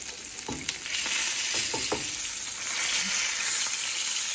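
Salmon fillet sears in a hot pan just after being flipped skin side up, a steady loud sizzle and crackle of frying with a few brief clinks of a utensil early on.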